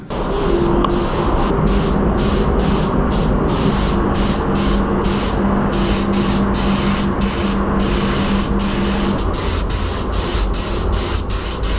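Loud, continuous hiss of a spray gun applying primer to a drift car's roll cage inside a paint booth, broken by short regular pauses between passes.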